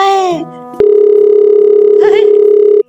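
A loud, steady electronic telephone tone sounds continuously, with brief voices speaking over it at the start and midway.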